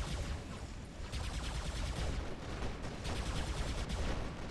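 Rapid turret gunfire in the War Robots game, a dense, continuous rattle of shots with sharp bursts running loud and steady throughout, no voices over it.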